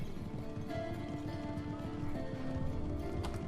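Cavalry horses gallop in a Third Age: Total War siege battle, a dense, continuous drumming of many hooves under a steady wash of battle noise, with no clear voice.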